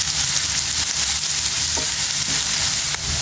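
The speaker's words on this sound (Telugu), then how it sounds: "ఇవి సన్నగా కట్ చేసుకొని మంచిగా ఫ్రై చేసుకోవాలండి." Two thinly sliced onions fry in a pan for an egg fry dish, giving a steady, dense sizzle with soft stirring scrapes, close and continuous.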